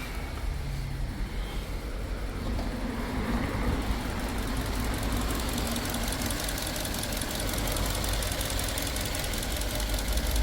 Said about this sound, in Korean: 엔진 부조 심합니다.